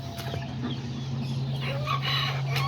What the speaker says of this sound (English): Yeah, there's all the little chickens.